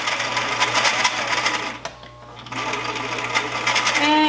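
Sewing machine stitching a dart in fabric: a close, rapid mechanical needle rattle that stops briefly, then resumes, with a voice talking over it.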